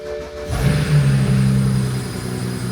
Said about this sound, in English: foot on the brake and let's start the car